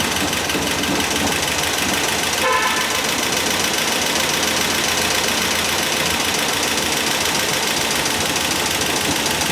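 A 1970s-style MGB Roadster engine runs continuously during a restoration, giving a dense, loud, steady mechanical roar with no talk over it.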